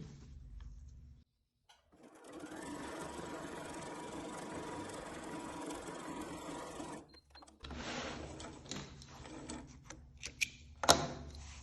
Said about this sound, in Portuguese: vamos lá na máquina fazer essa costura bem rente aqui, ó, ao dentinho.